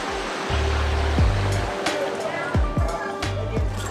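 Heavy rain pours steadily outside an apartment in Mostar, a dense continuous wash of noise with low rumbling passes cutting in and out beneath it.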